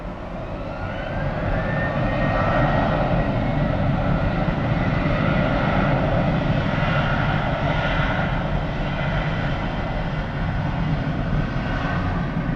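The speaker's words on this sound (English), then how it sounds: "Next approach for runway 30 is American Eagle, operated by Envoy. That's an Embraer 175 LR" An Embraer 175 LR jet airliner, an American Eagle flight operated by Envoy, approaches runway 30 at Miami Airport on arrival from Key West. Its steady, loud engine roar holds without a break, with no voices.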